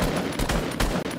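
Gunfire in Fortnite, rapid bursts of close, loud shots cracking in an uneven rhythm, several volleys within a second, with no voices over them.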